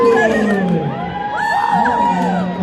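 A crowd at a film premiere at a cinema cheers and whoops loudly and steadily throughout, voices rising in a dense close roar.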